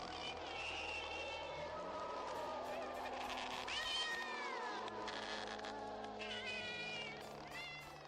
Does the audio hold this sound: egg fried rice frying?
no